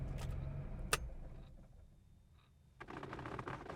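A red 1979 Porsche 911 Turbo (930) engine runs with a low rumble, then cuts out into near silence with a faint mechanical tick. After about a second, a running engine sound rises again.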